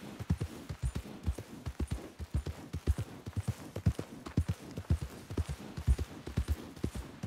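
Horse hooves walking in Red Dead Redemption 2 give a steady, even clip-clop, close and clear, each hoof strike distinct over the full stretch with no other sound on top.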